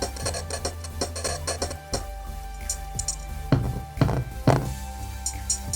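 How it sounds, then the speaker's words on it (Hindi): A programmed hi-hat loop from Stylus RMX in FL Studio repeats crisp, bright ticks in a steady groove over soft low thumps. "ये हैट की आवाज़ बहुत ही अच्छा रहेगा"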